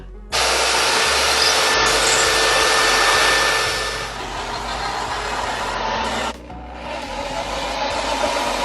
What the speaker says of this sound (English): Then we have to cut this plywood to go on top, also recycled from another project.